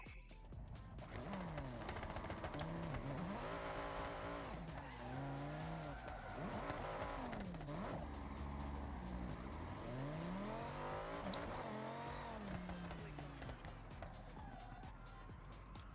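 An old Myers Manx dune buggy slides sideways with loud, sustained tire squeal and wavering engine revs, close up and continuous, almost no voices.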